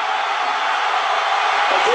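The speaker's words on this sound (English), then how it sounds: "The crowd is going absolutely crazy." Crowd cheering in a WWE 13 wrestling video game match, a dense continuous roar of the arena audience at steady loudness with a faint thud near the end.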